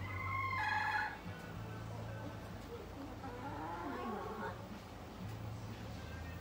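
Chickens in a garage make soft clucks and squawky calls among people talking, with a brief higher call near the start and fainter bird sounds throughout.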